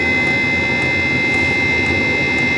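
A Chinese diesel parking heater runs with a steady, loud roar like an airplane, a continuous broadband whoosh with a high whine held throughout, close up and with no talk.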